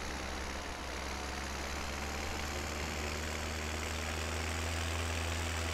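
A tractor fitted with dual wheels in Farming Simulator 17 idles with a steady, deep, continuous engine drone that holds even throughout, with no talking.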